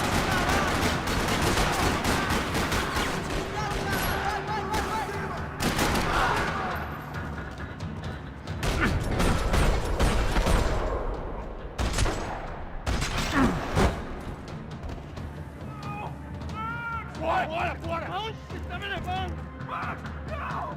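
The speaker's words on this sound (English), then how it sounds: "Another parking lot rattling with gunfire." Rapid gunfire fills a parking lot in the video game Max Payne 3, loud bursts and single shots rattling continuously over game music and effects, with voices mixed in.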